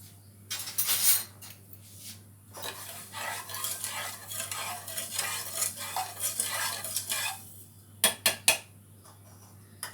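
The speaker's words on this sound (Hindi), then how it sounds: "तब तक हम एक बर्तन गैस पर रख दिए हैं, इसमें हम घी डाल देते हैं।" Kitchen stir and clatter as a pot is handled on a gas stove while making besan barfi with ghee and sugar syrup: repeated close scraping and metallic clinks in uneven bursts, with a couple of sharp knocks near the end.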